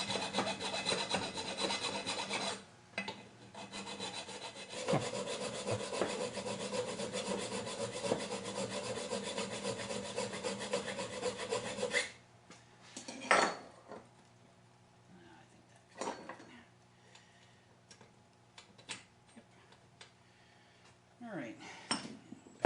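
Steel file rasping over a round metal part to square it off during a strut service on a 2000 Mitsubishi Mirage, with continuous close scraping strokes for about twelve seconds, then quieter intermittent clinks and handling noises.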